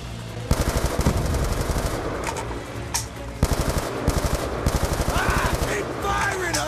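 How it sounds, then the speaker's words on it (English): Rapid bursts of automatic gunfire fill a Call of Duty Black Ops 2 battle, loud and rhythmic, pausing briefly between volleys over constant combat noise. "Keep firing, Hudson."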